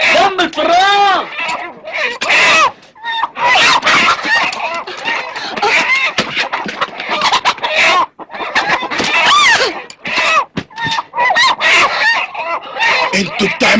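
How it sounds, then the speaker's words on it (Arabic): Loose chickens squawking and clucking frantically after their cage tips over, with excited voices shouting over the flurry of bird calls throughout. "انا كنت معايا قفص فراخ، فالقفص وقع، طارت الفراخ"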